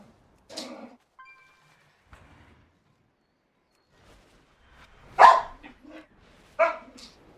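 Dog barking in a game world, a few sharp separate barks spaced out over several seconds with quiet gaps between them.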